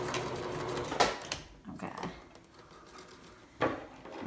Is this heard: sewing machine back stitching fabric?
yes